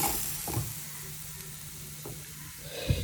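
Mustard seeds splutter in hot oil in a pan with a close hiss and scattered pops, plus a couple of sharp knocks as the seeds go in and stir. No one talks.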